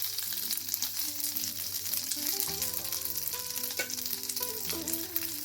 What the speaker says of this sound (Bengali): গ্যাসের ফ্লেমটা লো করে আর সামান্য একটু জলের ছিটে দিয়ে মশলাগুলোকে ভেজে নেব।